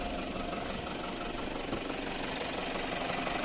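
A Toyota Land Cruiser Prado's 3-litre turbo diesel engine idles nearby, a steady low rumbling drone with a faint knocking texture running evenly throughout, with no voices.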